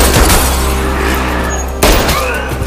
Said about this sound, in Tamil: துப்பாக்கி வச்ச ஒருத்த 3 பேரை சுட்டு கொண்டிருக்கான்.